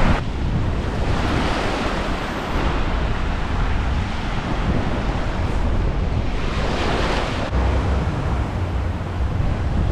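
Waves break steadily on a Barbados beach with strong wind buffeting the microphone, a loud continuous roar of surf and gusts and no voices.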